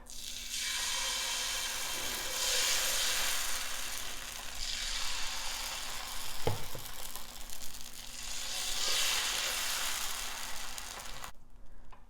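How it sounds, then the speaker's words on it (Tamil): Small dosas on a hot pan, a steady hiss of sizzling batter that swells and fades in long waves, with a brief clatter midway and a hum underneath before it cuts off. "வாங்க இன்னும் 2 தோசை ஊற்றிடலாம்."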